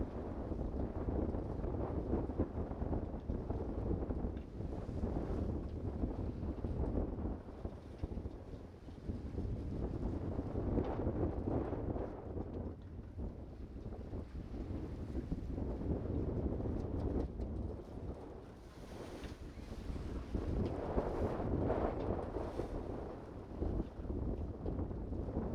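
Steady wind rushing and buffeting around the sailboat Windsong, sailing under sail with its engine shut off after leaving a rough strait toward the Atlantic. Low, continuous and fairly faint, with gusts swelling and easing and no voices.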